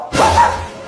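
A person lets out a single loud, breathy bark imitating a dog, close to the microphone and lasting under a second.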